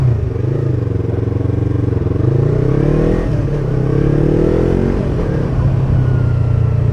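Yamaha R3 300cc motorcycle ridden hard, its engine droning loudly and steadily with rising and falling revs and a brief shift partway through, close and continuous with no voices.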